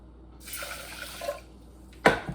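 Water pours into a pot holding one cup of rice, a soft splashing fill for about a second, then a sharp clank of the pot near the end.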